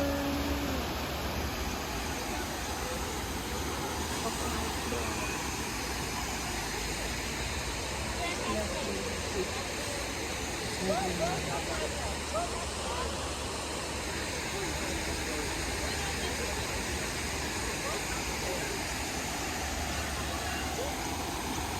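A garden waterfall gives a steady, even broadband rush of falling water throughout, moderately loud and unbroken, with faint sounds of people and surroundings mixed low beneath it.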